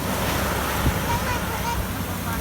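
Sea waves wash steadily onto a beach at Rayong, Thailand, with a continuous broadband surf roar and some wind rumble, fairly loud and unbroken throughout.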